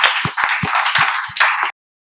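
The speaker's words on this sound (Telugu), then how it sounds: "మేమందరం చప్పట్లతో స్వాగతాన్ని తెలియజేస్తున్నాం" A short burst of hands clapping in welcome for students joining A.S. Reddy's spoken English institute. The uneven claps come close and fairly loud for under two seconds, then stop abruptly into silence.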